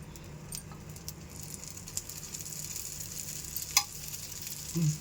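Oil poured onto a dosa on a hot griddle gives a quiet, steady sizzle with faint crackles and a brief sharp tick, heard close with no voices.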